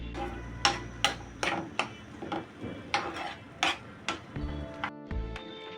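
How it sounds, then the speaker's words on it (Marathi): A spoon clacks against a pan or bowl as dry fruits are stirred into kalakand, a sweet made from curdled milk. The strikes are sharp and rhythmic, about ten of them, close by with no talk. "यामध्ये आता एक चमचा मी ड्रायफ्रूट टाकून घेते आणि व्यवस्थित त्याच्यामध्ये मिक्स करून घेऊयात"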